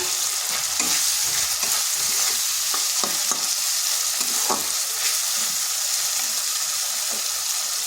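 Cut tomato frying and being stirred in a pan for a vegetarian pumpkin curry with potatoes. A loud, constant sizzle runs throughout, with occasional soft scrapes of the stirring spoon, and no talk.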